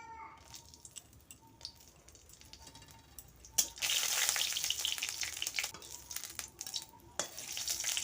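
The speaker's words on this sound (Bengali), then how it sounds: "আমি তেল দিয়ে দিচ্ছি আমি কয়েকটা শুকনো লঙ্কা আমি ভেজে নেব" Dried red chillies fry in hot oil in a pan for a Bengali khesari greens dish: a quiet crackle at first, then a loud, steady, hissing sizzle bursts in and carries on with sharp pops.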